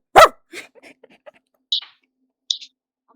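A person voices short barking sounds in imitation of a dog, a few sharp yaps spaced out with brief pauses between them.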